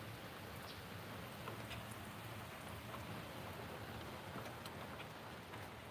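Rain falls steadily on a garden, a continuous close patter with scattered sharper drips standing out from the broad wash of droplets.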